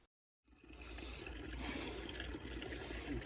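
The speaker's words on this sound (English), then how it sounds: "we heard the sound of water and thought it was a bigger source, but it's just run over water" A small stream running over rocks outdoors, a steady close rush and trickle of water that starts after a brief silence and keeps flowing evenly.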